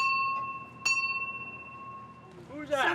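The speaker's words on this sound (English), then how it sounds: "Somebody ringing the bell?" Doorbell ringing: a bright sustained chime tone with a sharp strike partway through, fading over a couple of seconds before a voice starts speaking at the end.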